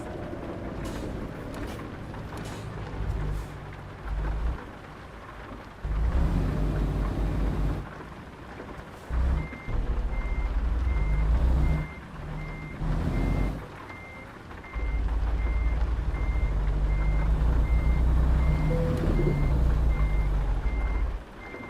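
Truck reversing alarm from a driving video game beeping steadily in a regular pulse, set against low rumbling engine and road noise that swells and drops in bursts.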